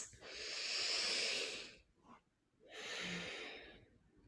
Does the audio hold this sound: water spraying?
no